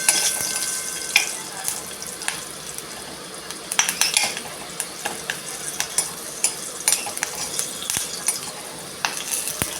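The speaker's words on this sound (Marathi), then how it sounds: "आणि ह्या तीन हिरव्या मिरच्या अशा थोड्याशा परतून घेऊया" Three green chilies sautéed in a pan, with a constant light sizzle broken by frequent clinks and scrapes of a spoon against metal, close and fairly loud.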